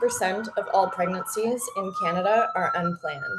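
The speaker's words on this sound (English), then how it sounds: "I also want to apologize for the sirens." Someone speaks steadily while an emergency siren wails on a New York city street in the background, its tone sliding up and down beneath her voice.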